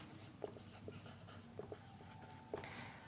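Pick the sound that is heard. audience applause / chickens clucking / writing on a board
writing on a board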